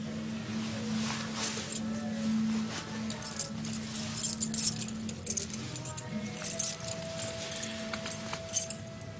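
Keys jangle and clink in a series of irregular bursts as they are handed over indoors, with a low hum running underneath.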